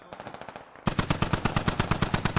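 A DShK heavy machine gun fires in a video game, a rapid unbroken burst of heavy shots, distant at first, then suddenly much louder and closer with a steady rhythm.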